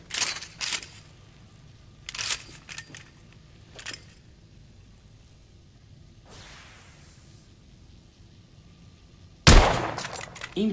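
Scoped rifle fire from The Order: 1886 video game: sharp cracks and mechanical clatter come in bursts, with whooshing movement between them and a loud blast near the end.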